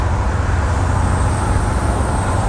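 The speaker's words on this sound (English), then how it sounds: "Hear that turbo whistle?" A Super II school bus runs down the road. Its loud, steady engine and road roar carry a thin, faint turbo whistle riding on top throughout the short stretch.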